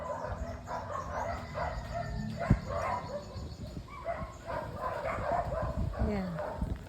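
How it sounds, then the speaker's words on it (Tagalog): Several dogs barking and yipping at a house in a residential neighborhood, sounding moderately close and intermittent, mixed with voices talking over them throughout. "May aso, ang daming aso doon."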